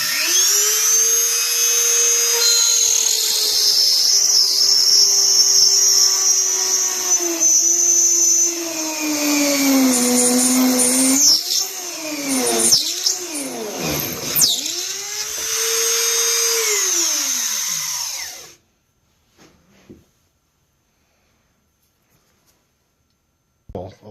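A cordless Dremel with a long six-inch aircraft bit bores through a wedge pipe. Its loud, steady high whine dips and surges in pitch as the bit loads up, then cuts off, leaving near silence with a few faint clicks.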